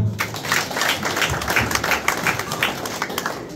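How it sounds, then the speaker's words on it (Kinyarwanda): Dense applause from a crowd at a graduation celebration, steady hand claps close and loud for several seconds without a break. "mumereza amashyi data"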